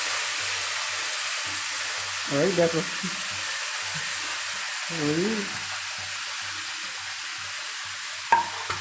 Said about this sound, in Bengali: দেখো মাছ ভাজা করছি